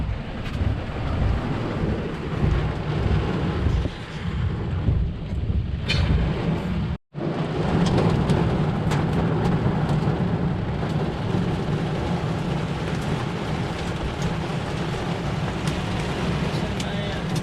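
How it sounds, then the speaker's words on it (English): A thunderstorm with heavy rain rumbles close by, deep thunder rolling under constant rain and wind buffeting the microphone, with a brief cut midway and occasional voices. "The thunderstorm."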